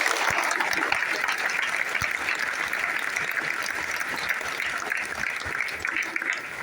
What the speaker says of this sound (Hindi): जरा पीछे बैठे वाले लोग जरा जोरदार तालियां उनके लिए बजाओ।